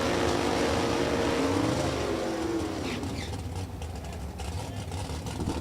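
Drag race car, a 2017 with a 555 cubic inch big block Chevrolet engine, at National Trail Raceway in Super Gas eliminations: a loud continuous roar that holds steady, then eases slightly and stays rumbling.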